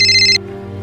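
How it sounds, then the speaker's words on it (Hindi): A telephone rings with an incoming call, a bright electronic ringtone cut off after a fraction of a second, with a low steady hum continuing underneath. "बाबा का फोन है।"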